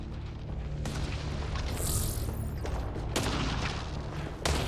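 Gunfire in the video game Mass Effect: Andromeda, several heavy bursts of shots and booms crackling loudly in succession, with sharp sudden onsets standing out against a dense, noisy battle background.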